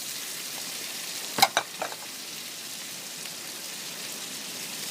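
Garlic and grated tomato fry for paella in a pan, giving a soft, steady sizzle with a couple of brief louder stirring scrapes near the middle.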